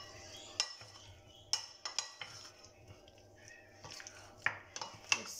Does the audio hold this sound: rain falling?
no